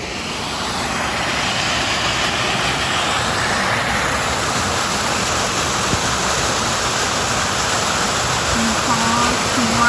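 A small waterfall on Fall Creek gives a steady, loud broadband rush of falling water that runs unbroken throughout, heard close by.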